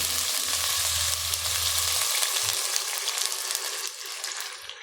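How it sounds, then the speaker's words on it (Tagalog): Loud continuous sizzling in a hot pot of chicken tinola with a low rushing pour of water at first, the hiss gradually settling as the pouring stops. "Pwede na natin ilagay yung tubig."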